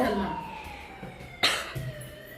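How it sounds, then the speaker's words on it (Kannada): A siren wails outside a home, steady, drawn-out tones fading slowly, heard at a distance behind a brief nearby clatter midway. "ಎಷ್ಟು ಸೈರನ್ ಯಾರು ಬರ್ತಾರೆ"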